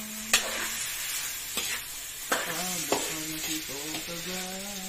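Chicken browning in a pan for tinola, a steady bright sizzle with several stirring scrapes and clanks, near and unaccompanied by talk, plus a faint tonal hum in the background.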